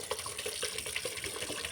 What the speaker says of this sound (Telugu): తర్వాత అదే పాత్రలో వాటర్ని ఫిల్ చేసుకొని రైస్ని నానబెట్టుకోవాలి.